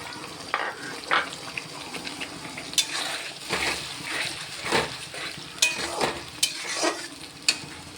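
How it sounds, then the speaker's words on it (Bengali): Spices and tomato frying in a pan for chicken curry, with a spoon stirring and scraping in irregular bursts over a steady close sizzle, and no talking. "মশলাগুলো দিয়ে ভালো করে নাড়াচাড়া করব।"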